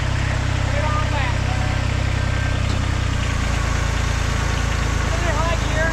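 Kubota tractor engine idling in a yard while digging out mulch beds, a steady loud low rumble with a slight shift in pitch midway.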